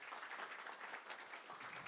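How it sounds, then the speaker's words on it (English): Audience applause at a research conference ceremony, soft and fairly distant, a brief even patter of many hands clapping. "Can we clap for Rachel"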